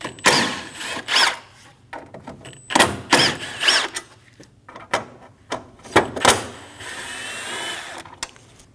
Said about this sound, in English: Using a T30 bit, we're going to go around and remove all of the screws.